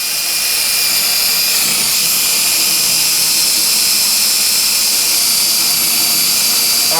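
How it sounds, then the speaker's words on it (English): Close, loud and unbroken, a power drill whines as it drills out seized screws on an original Atari Quantum arcade cabinet being prepped for restoration, with no talk over it. "So I'm just gonna drill them out."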